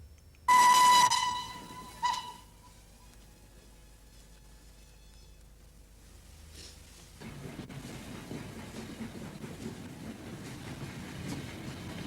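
A steam train hauling coaches from British Rail at Port Sunlight sounds a loud, shrill whistle blast near the start, followed by a quiet lull before the rolling rumble of the moving train builds and carries on steadily to the end.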